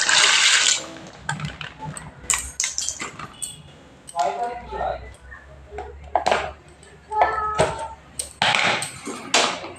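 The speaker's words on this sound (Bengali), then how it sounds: "জলটা আমার গরম হয়ে গেছে, এবার আমি জলের মধ্যে পাস্তাটা সিদ্ধ করতে বসিয়ে দিচ্ছি।" Pasta goes into a pot of hot water on the stove, with splashes, clinks of a pot and utensil knocks, while a person talks over the kitchen sounds.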